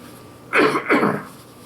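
Two quick, rough coughs in succession, close and fairly loud, with nothing else around them.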